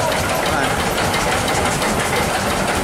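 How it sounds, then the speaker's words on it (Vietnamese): An old single-cylinder stationary engine started on petrol and kerosene, 3.5 horsepower, running at about 600 rpm; a loud, dense, steady mechanical chugging and knocking close by, with speech partly mixed in. "Máy này là dòng tua của nó là 600 vòng trên 1 phút là nó là 3 ngựa rưỡi ha."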